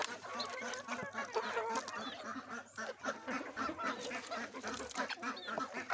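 Chickens and ducks cluck and quack continuously while pecking at grain feed set out in bamboo containers on a poultry farm, a busy close chorus of overlapping calls with no talk.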